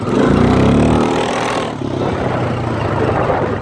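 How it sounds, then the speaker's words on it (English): Quad bike engine over-revving hard in third gear while letting off blue smoke, a loud close buzzing roar that eases slightly partway through and stays continuous, with no talk. "we're letting off blue smoke because we're over revving it like majorly"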